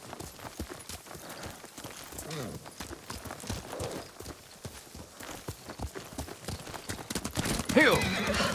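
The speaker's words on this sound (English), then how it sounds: "Kazumasa, I do enjoy our rides together." Horse hooves clip-clop at a steady walking rhythm while riding in Ghost of Tsushima, with a horse whinnying and people talking over the hoofbeats.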